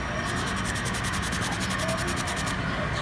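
A scouring pad scrubs rapidly back and forth against a hard front brake part of a Honda Click 125 scooter, a steady rhythmic abrasive rasping up close that continues for a few seconds, then eases.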